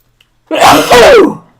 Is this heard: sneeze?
yes